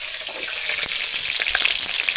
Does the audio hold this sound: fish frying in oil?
yes